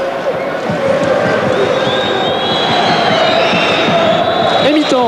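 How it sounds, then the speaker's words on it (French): Football stadium crowd at Caen's Stade d'Ornano during a January 2005 Caen vs PSG match, a steady broad roar of mixed applause and murmuring with scattered shouts and whistles, continuous and fairly loud throughout. "mitigé, applaudissements quand même"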